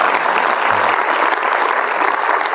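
A lecture-hall audience at a motivational seminar for medical exam students claps loudly and continuously, a dense, even patter of many hands with no pauses.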